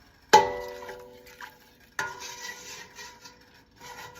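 A spoon stirs fresh lime juice into simmering pork carnitas liquid in a pot, with two sharp utensil clinks against the pot followed by softer scraping and swirling.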